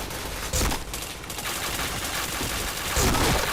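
Rapid gunfire rattles steadily through a shooter game, with two heavier bursts near the start and end punching above the continuous automatic fire.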